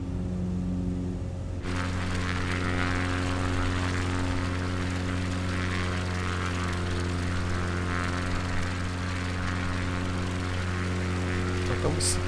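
A light propeller airplane in Microsoft Flight Simulator 2020 drones steadily in flight over a highway near Prudentópolis, Paraná, a constant engine hum with strong low harmonics, brightening into a fuller roar after a short muffled start, with no talk.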